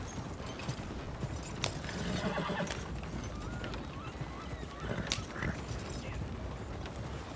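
Horses pulling a wagon in Red Dead Redemption 2 clip-clop in a steady rhythmic trot under a busy game mix, with a rolling wagon and occasional sharp sounds, moderately loud throughout.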